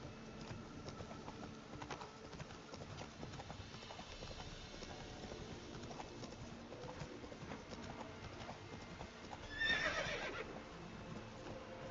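Roach, the horse in The Witcher 3 game, gives a short whinny near the end over steady clip-clop hoofbeats and faint game ambience.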